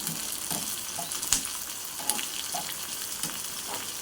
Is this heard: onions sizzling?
yes